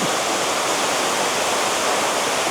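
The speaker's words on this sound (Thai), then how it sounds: "น้ำตกไหลลงแม่น้ำเมยครับ" A waterfall pours into the Moei River: a steady, dense rush of water that fills the whole clip with constant broadband roar, close and unbroken, with no voices.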